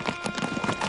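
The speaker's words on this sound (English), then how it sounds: "The sun rose and Muffied watched the horses set off into the desert." Horses' hooves clop in a quick irregular rhythm as the horses set off into the desert, close and fairly loud with no voices over them.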